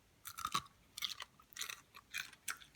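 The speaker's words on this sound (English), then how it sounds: "this one, the fried rice, when you dip like this, is so crunchy" Crunchy fried sizzling rice bitten and chewed close up, about five sharp crackling crunch bursts spaced roughly half a second apart, with no talking.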